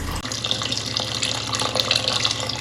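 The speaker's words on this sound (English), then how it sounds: "I'm going to add some water." Water pours steadily into a pot on a pressure cooker set to sauté, making a loud, continuous splashing gush as it fills for steak pie gravy.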